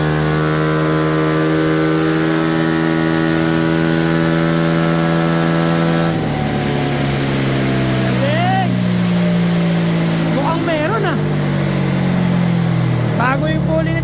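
A Yamaha Nmax V2 scooter engine revs hard on a dyno, its steady high drone shifting pitch as rpm climbs, with rising whine sweeps near the end and someone talking over it throughout.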